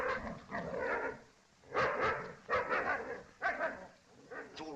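A dog barks and yelps in several loud bursts with short pauses between, sounding excited and close, with some background noise and a faint voice.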